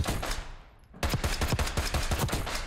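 DM10 rifle firing in the video game Black Ops 6, a rapid, close, loud string of evenly spaced shots starting abruptly after a brief fading tail.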